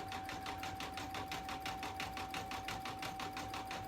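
An embroidery machine stitches a freestanding lace heart, building satin stitch over an underlay with a fast, even, steady needle chatter and a faint tone, quiet and with no talking.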